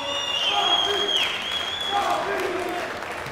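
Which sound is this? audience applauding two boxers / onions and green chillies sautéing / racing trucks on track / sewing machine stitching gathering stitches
audience applauding two boxers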